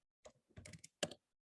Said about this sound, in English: So I could just type in